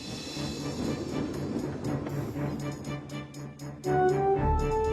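A long, heavy freight train hauled by a steam engine rumbles along steadily with low mechanical clatter, and a brighter sustained tone swells in near the end.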